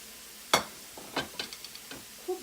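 Ground Kashmiri chilli, cumin, turmeric, garam masala and chaat masala are stirred together for a veg Mughlai paratha filling, giving one sharp clack followed by a few quieter, scattered scrapes and taps, close and faint.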